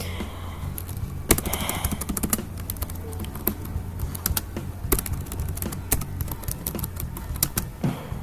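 Someone types a file name on a computer keyboard, a run of quick, uneven clicks and taps close by over a low steady hum, with no talk.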